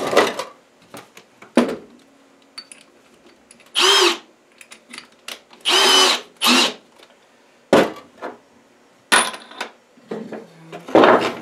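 Several short bursts of a power drill whirring into a block of wood, separated by pauses and small clatters of objects being set down, close by.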